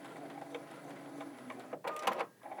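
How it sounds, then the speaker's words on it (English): A Baby Lock Allegro sewing machine runs a locking stitch with a steady mechanical whir, then snips the thread automatically in a brief louder burst of clicks and buzz near the end, heard close up with no talking. "it automatically cuts my thread and leaves these little short thread tails"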